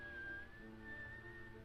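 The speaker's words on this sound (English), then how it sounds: "Whistling and singing along." A man whistles a tune, a single clear sustained whistle that glides slightly in pitch over a faint background hum from an old 1945 film recording.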